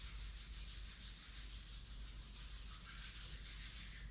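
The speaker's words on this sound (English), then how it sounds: "Rub your palms" Palms rub briskly together at the end of a yoga session, making a continuous, even, soft swishing friction sound, close and quiet, with no speech.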